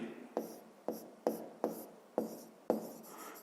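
Chalk or pen on a board during a fifth-grade maths lesson, heard as six or seven short, crisp scratchy strokes at a regular pace, close and fairly quiet, with no talking.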